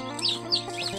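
Mother hen of a village chicken flock clucking softly in a few short bursts, with faint bird chirps over a steady low background hum.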